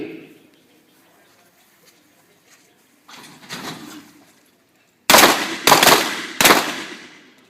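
Sharp handgun shots crack out during a self-defense shooting drill: three loud, closely spaced reports near the end, preceded by fainter movement noise and quiet stretches.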